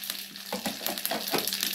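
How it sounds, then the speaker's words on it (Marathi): Onion, mustard seeds and curry leaves sizzle in hot tempering oil for a spicy Maharashtrian dal, giving a steady close crackle with sharp pops and spits throughout. "कांदा फोडणीला दिला आहे, राई फोडणीला दिली आहे"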